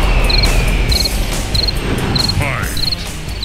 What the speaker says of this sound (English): it's the cricket soundtrack